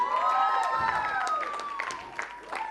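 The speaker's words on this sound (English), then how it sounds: "Big round of applause for Aditi." Crowd applause and cheering greet Aditi Bhaumik, named winner of the Miss category at the Priyadarshini Miss India 2021 pageant, with a strong tonal music or voice layer sustained over the clapping throughout.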